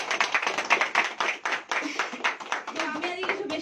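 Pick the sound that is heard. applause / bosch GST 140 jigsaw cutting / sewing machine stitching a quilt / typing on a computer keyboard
applause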